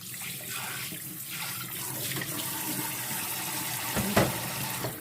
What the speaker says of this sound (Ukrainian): І ще промиваємо отут у чистій водички.